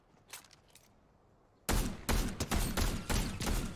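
Gunfire in GTA RP: after a quiet opening with faint clicks, a loud burst of rapid shots erupts and keeps going as a dense, sustained volley.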